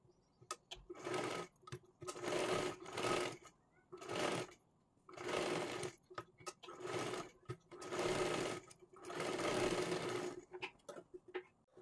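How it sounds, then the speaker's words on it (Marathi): A sewing machine stitches a fancy frock for a 1-2 year old baby girl in several bursts of rapid whirring, separated by short pauses, close and fairly quiet. "आता ह्याला पूर्ण आकारामध्ये आपल्याला शिलाई करून घ्यायची आहे."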